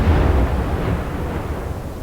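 A heavy, rumbling explosion booms and rolls off over a couple of seconds, deep and loud with no voices, in the submarine game Silent Hunter 4: Wolves of the Pacific.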